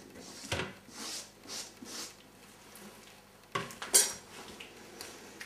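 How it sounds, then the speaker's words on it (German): Gloved hands add onions and garlic to a raw minced-meat loaf mixture in a home kitchen, heard as scattered clinks of utensils and bowl plus soft squelching bursts, with a couple of sharper knocks near the end. "Da tue ich die Zwiebeln und den Knoblauch rein"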